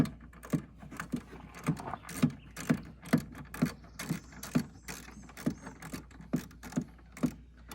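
A ratchet fitted with a 10mm socket works on hose fittings during a car repair, giving a steady run of sharp metallic clicks about twice a second, close and moderately loud, with no speech.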